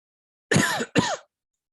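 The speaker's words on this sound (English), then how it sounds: "I had really bad cough" A person coughs twice in quick succession, close and clear, two short harsh throat-clearing bursts in otherwise silent surroundings.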